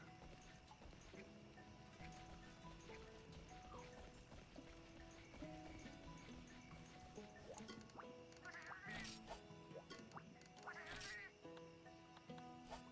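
Cartoonish duck quacks from a video game, several short bursts standing out near the end over steady game music and sound effects.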